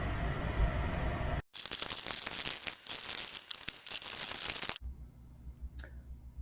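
Scissors cutting fabric for a hat: a few seconds of crisp, close snipping and crinkling rustle, set between quieter handling noise before and after.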